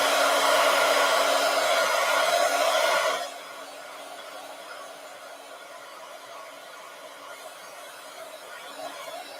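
Hair dryer blowing to dry paint on a journal page, loud steady whoosh for about three seconds, then dropping to a quieter, lower airflow hum that carries on to the end.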